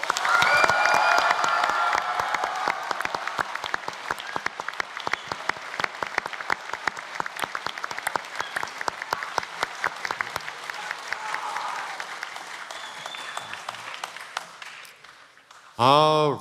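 Middle school science bowl finals crowd giving loud, sustained applause with some cheering for the top two teams, continuous and dense clapping that gradually tapers off before a voice cuts in at the end.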